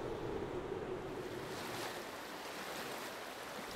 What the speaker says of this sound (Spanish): durante unos días solo se oye el río